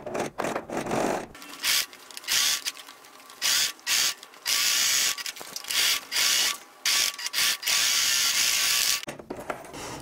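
A sewing machine stitches along the side of a small fabric cosmetic bag, running in repeated loud bursts with brief pauses between them, close up.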